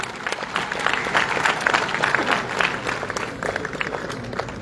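Audience at a state literary award ceremony applauds the honoree, a folk literature scholar, with moderate uneven clapping that swells and eases over several seconds.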